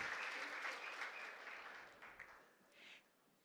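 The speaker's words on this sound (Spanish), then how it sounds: "Nuevamente un fuerte aplauso para Emanuel Frías" Faint applause from the audience at a 2016 regional oratory contest final in Los Santos, a soft, distant clapping that gradually tapers off within a few seconds.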